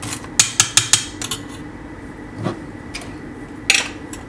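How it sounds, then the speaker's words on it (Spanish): Frozen peeled shrimp dropped into a pan: a quick run of about six sharp clinks and clatters, then a pause, a soft thud, and one more bright clatter, close and clear with no talking. "Echo los camarones"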